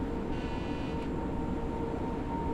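A ČD class 750 "Brejle" diesel locomotive runs in Train Sim World 6 on the Turnov to Liberec line, giving a steady, fairly loud low engine drone with a brief thin whine near the start.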